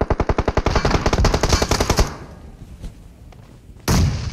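Rapid automatic gunfire in PUBG Mobile, a close, loud burst of about two dozen evenly spaced shots, then a few quieter distant pops and a final heavy thump.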